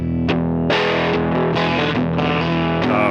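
A heavily overdriven Jet City electric guitar rig on a modern high-gain setting plays a few chunky, saturated notes and chords, loud and close with no talking.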